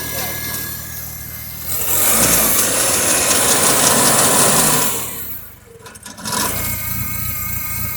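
An IH Farmall Cub tractor engine idles on heavy choke, a rough, uneven mechanical running that swells louder, dips briefly and then picks back up.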